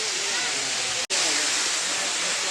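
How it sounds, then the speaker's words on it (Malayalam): Paloor Kotta waterfall in Malappuram, a steady, loud, close rush of falling water filling the whole clip, cut by one very brief dropout near the middle. "ഇത് അതിൻ്റെ നേരെ താഴെ വെള്ളച്ചാട്ടമാണ്."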